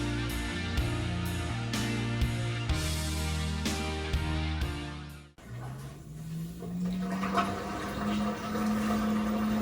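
An LG WM4000HWA TurboWash front-load washer on a permanent press cycle fills with water, a steady rushing and trickling flow with a brief dip partway through, heard alone and close.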